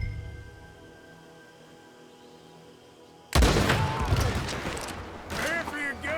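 Sudden loud gunfire erupting in the video game Red Dead Redemption 2 after a quiet stretch, a sustained noisy barrage with voices shouting beneath it.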